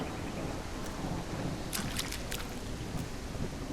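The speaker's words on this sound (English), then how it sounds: "the rain will just stop at a certain point because we've just got it running in certain areas." Steady rain falls across open fields in the video game Coreborn, a dense continuous hiss that fills the whole stretch, with a few faint higher patters and drips scattered through it and no talking.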